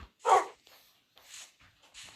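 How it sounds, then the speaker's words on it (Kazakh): Dogs kept at a family home give a few short, separate barks and yips, fairly close and moderately loud, with quiet gaps between them. "Міне, иттер ойбай шықты."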